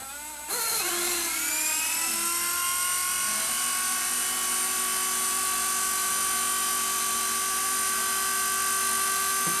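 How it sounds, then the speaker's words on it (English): A Blade mCP X micro RC helicopter powers up with a sudden onset, its tail rotor settling into a steady, close, high-pitched electric whine that holds evenly to the end with no talk. "So the tail rotor comes on first, which is a good thing because that'll keep it from spinning."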